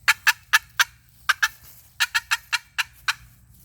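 A hand-played turkey call imitates a hen cutting, sharp, loud, close clucks in irregular clusters of two and three with brief pauses between them, heard alone.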